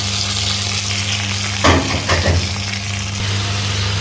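Chicken frying with browned onions in a pot, a loud continuous sizzle broken by a couple of scraping stirs near the middle, with no voices.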